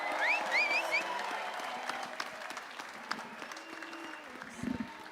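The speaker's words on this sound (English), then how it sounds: "let's have a big round of applause for the FDNY Emerald Society Bagpipers" Crowd applause fills a boxing arena after the FDNY Emerald Society Bagpipers lead a team to the ring, a steady wash of clapping and cheers with a whistle-like tone early on.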